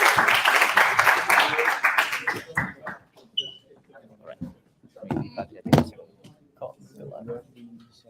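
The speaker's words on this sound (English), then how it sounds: "give traceability a round of applause" Audience applause breaks out in a classroom after a presenter is introduced: dense, loud clapping for about three seconds, then thinning into scattered claps as talk and movement take over.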